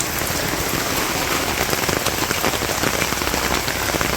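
Steady, dense rain pours down in a village, drumming on surfaces and roofs with a continuous even hiss and scattered drop impacts throughout, with no voices.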